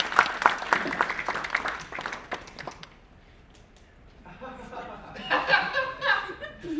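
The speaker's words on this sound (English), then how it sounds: "give a round of applause, please, for Jacob Marscola" Applause for Jacob Marscola at a stand-up comedy show, a burst of clapping mixed with chuckles that fades to near quiet, then laughter and crowd noise swell back up.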